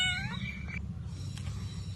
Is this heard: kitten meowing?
yes